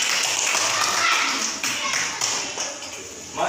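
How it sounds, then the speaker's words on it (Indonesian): A class of children claps together, a bright, rapid patter of many hands that thins toward the end, with some voices underneath. "Kita kasih tepuk tangan untuk kelompok 2."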